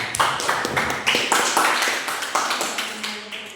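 Clapping in a classroom during a contextual teaching and learning lesson, a small group of hands striking in uneven, separate bursts, close and fairly loud, tapering off toward the end.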